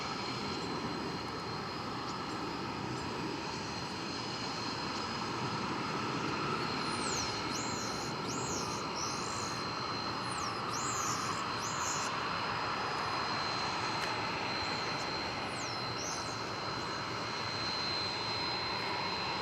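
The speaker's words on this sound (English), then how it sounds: "This is that UPS flight that we saw come in from Houston, 767." Steady, broad jet engine roar of a UPS Boeing 767 departing DFW Airport, continuous and fairly distant, with faint bird chirps above the rumble.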